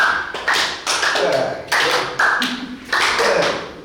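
Group of people clapping hands overhead in rhythm during a yoga session at a physical education department, sharp claps recurring about every 0.6 seconds with a faint voice calling the count underneath.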